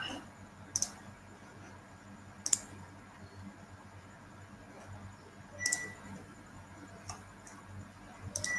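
Sparse mouse clicks while saving a project in a video editor: a handful of sharp, close ticks at irregular intervals over a quiet room background.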